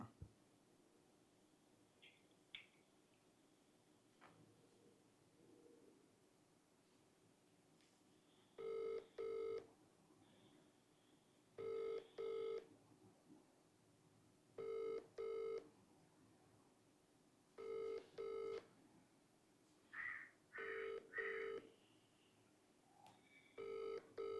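Phone ringing unanswered during a call, heard as a repeating ringback pattern of paired electronic tones in regular bursts with silent gaps, faint and distant.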